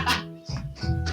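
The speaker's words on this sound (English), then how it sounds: "That's the sound of potentially soon cat vomit." A cat retches in a video game, a couple of short, throaty heaving gulps in quick succession, close and moderately loud, with no talking.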